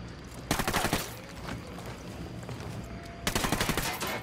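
Gunfire in the video game Ghost Recon Wildlands: two sharp, rapid bursts of automatic shots, separated by a lower rumble of game ambience.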